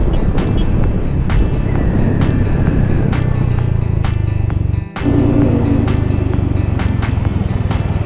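A Yamaha XMAX 300 scooter rides at top speed, its engine droning steadily under heavy wind rush at the microphone, with a brief dropout midway before the roar resumes.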